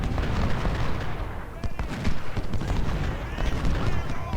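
Cannon fire booms in the Ultimate General: Civil War battle of Chancellorsville, dense overlapping blasts and rumbling gunfire amid a noisy battlefield din.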